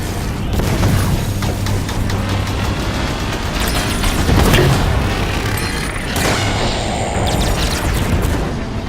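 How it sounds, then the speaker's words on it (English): Turret fire and explosions in Halo 5, a dense continuous barrage of booms and blasts holding steady for the whole stretch, loud and close with no clear pauses. "Watch the fire from those turrets!"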